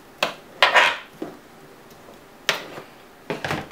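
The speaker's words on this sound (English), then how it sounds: "This needs to be chopped a little bit more." A knife chopping guacamole ingredients on a board: a handful of sharp, separate knocks and scrapes at uneven intervals, close and fairly loud against a quiet background, with no talking.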